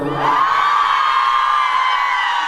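A fan club crowd at an outdoor civic day concert performance shouts and cheers in a loud, sustained collective roar of high-pitched voices that holds steady for a couple of seconds.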